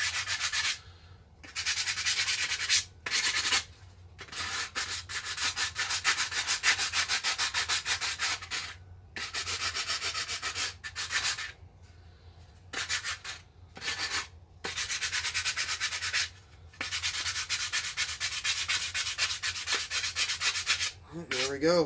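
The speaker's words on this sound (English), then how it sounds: "Let me try to sand down the handle area where the priming handle is" Sandpaper rubs against a plastic Nerf gun handle in long, steady strokes, a loud, close, raspy scraping broken by short pauses, with no talking.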